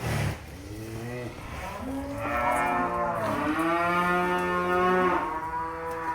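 White cattle at a farm pen lowing in long, loud moos, several overlapping calls running nearly continuously with a short pause near the start.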